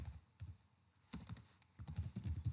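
Rapid keystrokes on a computer keyboard entering a web address, close and crisp, in irregular bursts with brief pauses between clusters of taps.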